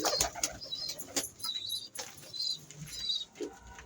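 Home-kept pigeons in a loft coo softly, with scattered higher chirps, light fluttering and pattering movement around them, close and busy for several seconds.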